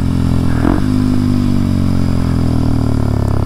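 A Kawasaki KLX 230SM motorcycle engine runs steadily while being ridden, a loud close single-cylinder drone holding a fairly even pitch with a brief rev near the start and no talking.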